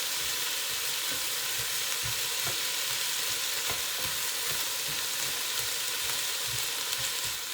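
Sausages fry in a pan on a Remoska cooker aboard a sailing boat, giving a steady, close hiss of sizzling fat broken by the occasional scrape or stir, with no voices over it.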